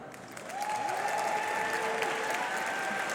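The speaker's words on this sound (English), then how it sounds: "please join me in another round of applause for Ridhi Tariyal, the 2024 recipient of the" Steady applause from a crowd fills the room, even and sustained throughout, with a few brief whistles ringing over the clapping.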